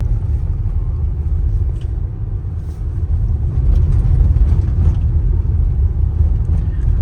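Inside a Toyota RAV4 driving over rough off-road ground, a steady low engine and tyre rumble fills the cabin with faint knocks and rattles, fairly loud and continuous.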